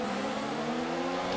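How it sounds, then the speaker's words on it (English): A race car engine in the F1 2019 video game holds a steady, loud revving drone on the grid before the Azerbaijan Grand Prix start, sustained and unbroken without talk. "Let's build up the revs here and get ready for the 5 red lights for the Azerbaijan Grand Prix"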